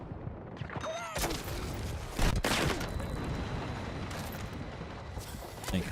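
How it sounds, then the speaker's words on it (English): Mortar blasts and rapid gunfire in the Battlefield 6 video game, a dense rattle of shots with a heavier thump midway, continuous chaotic combat noise under a player's voice. "There's a dude on Hagental firing a mortar in the hallway"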